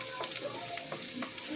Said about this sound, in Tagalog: mainit na yung mantika, ilagay na natin yung ating bawang